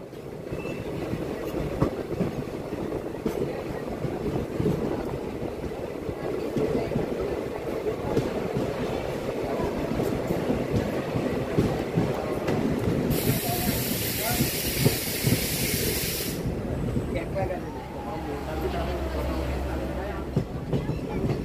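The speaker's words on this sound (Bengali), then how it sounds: "এখন বিশ্রামগঞ্জ রেল স্টেশন থেকে বিশালগড় রেল স্টেশনে ট্রেন প্রবেশ করছে।" A passenger train rolls between Bishramganj and Bishalgarh stations on the Belonia to Agartala line, with a continuous rumble and rattle of wheels on track and a brief bright hiss partway through.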